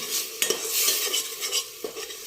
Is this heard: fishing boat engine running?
no